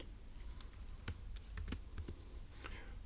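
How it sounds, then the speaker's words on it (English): Notes are typed on a computer keyboard in short irregular bursts of sharp, close key clicks, with brief pauses between keystrokes and no talk. "So let's go type that up in our notes."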